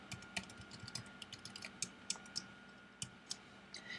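Someone types a comment on a computer keyboard, giving quiet, close, irregular clicks of the keys with a few sharper taps and no speech.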